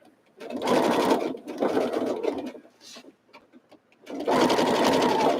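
A sewing machine stitches a quilt in close, loud bursts of rapid whirring, three runs broken by brief quieter pauses.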